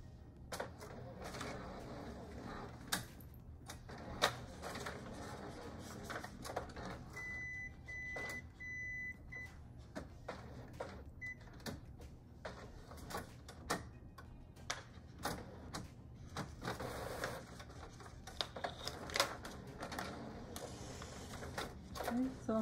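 A sublimation/DTF film printer runs a glossy print job, its mechanical clicking, ticking and motor whirring steady through the clip, with a person speaking over it.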